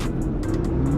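Chevrolet Camaro ZL1 1LE engine idling high and revving by itself, a steady low droning rumble with faint higher flutters, heard close from inside the car with no talk.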